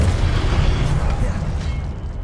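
A Confringo fire blast spell from Hogwarts Legacy erupts as a loud, sustained booming rumble, heavy low-end energy rolling through the whole moment before easing off near the end.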